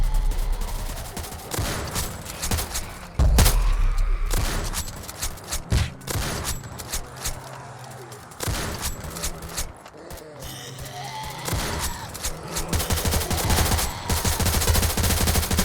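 Sniper rifle fire in the Roblox game Zombie Uprising, heavy gunshot bursts ringing out repeatedly over about fifteen seconds, loud and close, layered with other game effects and background noise.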